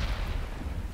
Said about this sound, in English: Now you hear that? Those are mortars.